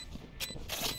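Weapon reload in the Valorant video game: a quick mechanical ratcheting clack followed by a brighter metallic snap, close and fairly quiet, with no talk.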